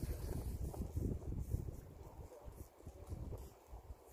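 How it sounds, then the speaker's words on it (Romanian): Low, gusty cold wind buffeting and rumbling in uneven surges while rod fishing, fairly quiet, with no voices. "Schimbat un vânt frig comparativ cu ieri"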